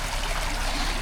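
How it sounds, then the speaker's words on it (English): A river flows steadily as a broad wash of rushing water, loud and constant with no other sounds. "there's a river"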